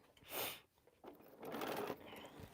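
A sewing machine stitches quilt pieces in short bursts: one brief run, a pause, then a longer steady whir of needle strokes, heard quietly and fairly close.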